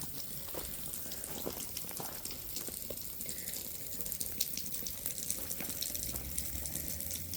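Water spraying steadily from a garden irrigation system during a test run beside a cattle panel trellis, a continuous hiss with small splashes, moderately loud and close, no talking.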